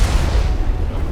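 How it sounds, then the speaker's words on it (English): A rocket fired at enemies in Mass Effect Legendary Edition: a loud, heavy, rumbling blast with a strong low-end body, sustained for about a second, close and alone with no talk over it. "Let's just rocket them."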